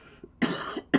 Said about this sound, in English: I really apologize to you guys, coughing and hacking the way I am.